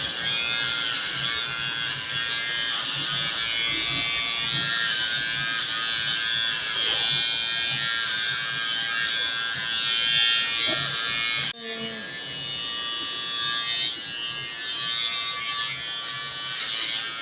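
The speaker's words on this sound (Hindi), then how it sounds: "ट्रिमर चला के ही ज़्यादातर मैं पूरा हेयर कट को कंप्लीट करूँगी" A girl's hair is cut with an electric trimmer, a steady close buzz running nearly throughout with one brief break.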